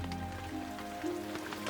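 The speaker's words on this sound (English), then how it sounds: "Then suddenly fat raindrops began to fall from the sky." Rain falling as a sound effect in a children's bedtime story about frogs and mosquitos, a steady soft patter of drops over a continuous low hum, with no voice over it.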